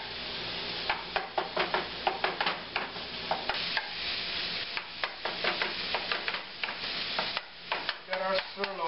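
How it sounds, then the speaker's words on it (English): Sirloin browns in a hot pan, a steady sizzle broken by repeated scraping strokes of a utensil stirring the meat, close and fairly quiet with no one talking. "Got our sirloin starting to brown up, looking really nice"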